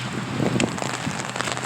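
Rain patters steadily around a jogger running outdoors in worn running shoes, a soft continuous hiss of drops with scattered brief taps, fairly close and moderate in level throughout.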